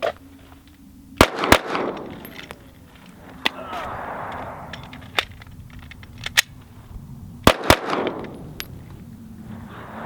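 Pistol shots in a practical accuracy shooting drill: sharp, loud cracks, some in quick pairs and others spaced apart, over a low background murmur with a voice at times.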